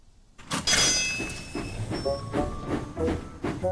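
A cartoon steam engine, Emily from Thomas & Friends, chugs along the track with a rhythmic clatter and a brief whistle-like tone, steady and fairly close.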